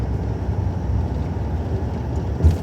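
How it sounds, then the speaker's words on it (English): A CSX freight train passes at Emerson, Georgia, heard as a steady, fairly distant low rumble that holds evenly and ends with a brief thump. "The train we were waiting on coming south is just going by."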